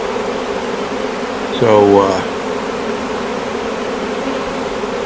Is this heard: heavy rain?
no